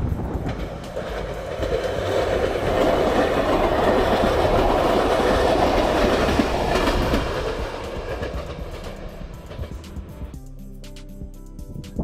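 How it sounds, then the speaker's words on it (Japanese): A train rolls past at a rural Japanese line, its rumble and clickety-clack of wheels building loud and close, then fading away toward the end. "電車来ましたね。"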